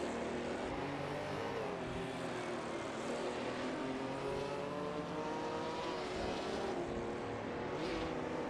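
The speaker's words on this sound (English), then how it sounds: "We just witnessed an exciting race in the racing simulator" Race cars roar continuously in an auto racing simulator game set at Le Mans, a steady dense engine drone with layered overlapping tones and no voices.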